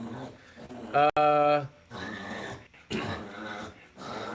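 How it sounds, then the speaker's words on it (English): A pet dog growls and whimpers near the microphone in a few short bursts, with strained breathing between them and a person talking over and around the sounds. "Sorry, that's my dog."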